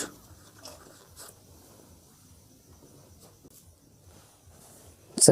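Pen scratching out the final lines of a handwritten algebra proof for a school maths exercise, soft and continuous at close range, ending in a brief louder knock or scrape.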